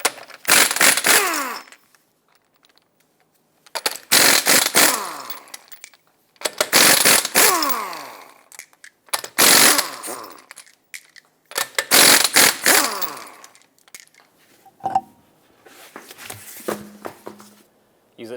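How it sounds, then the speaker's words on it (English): Lug nuts on a 2014-2021 Mazda 6 wheel being spun off with a 21mm socket: five separate bursts of ratcheting, rattling metal, each about two seconds long with short pauses between them, heard close up. "Use a 21mm socket and remove all 5 of your lug nuts,"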